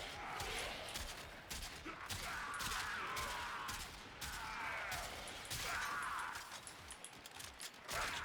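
Kuva Quartakk rifle firing in the game Warframe, rapid bursts of gunfire in a dense, continuous rattle with metallic impacts, loud and sustained throughout.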